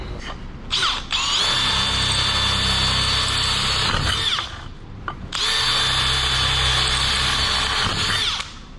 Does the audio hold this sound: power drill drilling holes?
yes